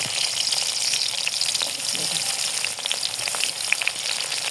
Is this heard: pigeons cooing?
no